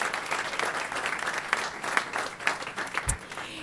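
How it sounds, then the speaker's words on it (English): Audience members at a board meeting give a hearty round of applause for a winning team of middle-school students, continuous crowded clapping with a few sharper claps standing out. "give them a huge round of applause"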